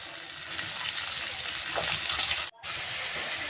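Pumpkin pieces sizzling and frying in hot oil with garlic-chili thecha, a steady loud crackling hiss with stirring that briefly cuts out, then resumes.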